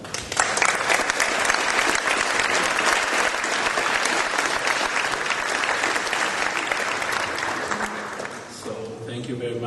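A lecture hall audience gives sustained, dense applause to welcome visiting lecturers, the clapping holding steady and full for most of the stretch before thinning out near the end, with a few faint voices.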